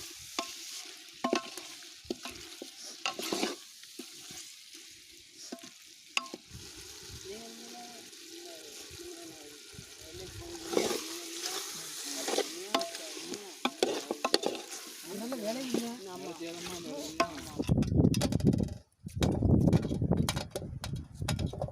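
Mutton chukka stirred in a frying pan outdoors in a brinjal garden, a spoon scraping in a steady rhythm over a soft sizzle, with people chatting nearby throughout.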